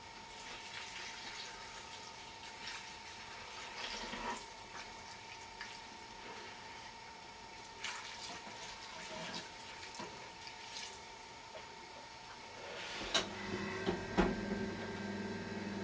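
Water pours into a vessel during home apple wine making, a faint continuous trickle and splash with a few clinks of handling, ending in a louder burst of pouring near the close.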